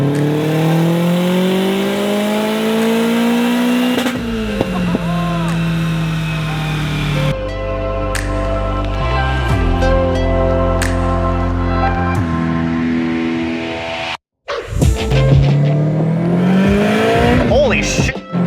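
A tuned Subaru STI built to about 450 wheel horsepower screams at full throttle, its turbo engine sweeping up through the revs with abrupt drops at each shift, loud and close, with people exclaiming over it.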